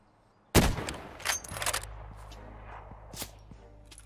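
Suppressed gunshots in a shooter video game: a sharp near report followed by a short cluster of muffled shots and a later single pop, fairly faint over a low background hum.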